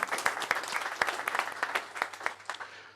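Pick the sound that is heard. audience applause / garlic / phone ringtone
audience applause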